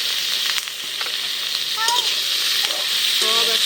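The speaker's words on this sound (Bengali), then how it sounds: "একসাথে তেলের উপর সুন্দর করে ভাইজা নেব" Boiled bottle gourd with garlic, onion and green chilies frying in soybean oil, a loud, dense sizzle held steady close by, with a few brief utensil squeaks and scrapes.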